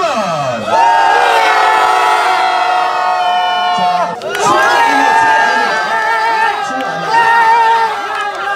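A crowd at a district cycling competition shouts a loud cheer twice, each burst sustained for a few seconds with many voices blending together, then breaking off.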